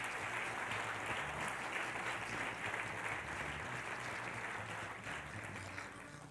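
Church congregation applauding loudly and steadily for several seconds, a dense wash of clapping that stays near and fades slightly toward the end.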